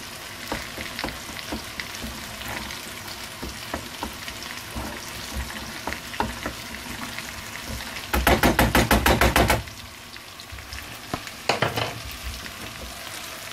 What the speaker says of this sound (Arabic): وغادي نحرك.